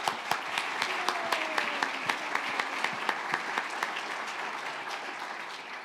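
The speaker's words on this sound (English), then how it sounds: "I'd like to give him a round of applause" A room of attendees at a state transportation department winter workshop breaks into steady applause, dense and even, with a few sharp individual claps standing out near the front, with no speech.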